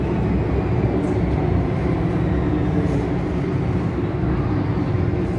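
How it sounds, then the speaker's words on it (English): A metro train at Sai Wan Ho station fills the space with a steady, loud low rumble and hiss that stays even throughout, with no voices. "So we get off and wait for this train to leave"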